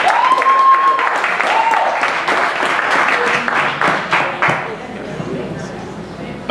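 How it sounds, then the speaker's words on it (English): An audience at a live stage event claps in steady applause that fills the room and gradually thins, with voices talking over it near the start. "Can we clap it up for everybody who put the time?"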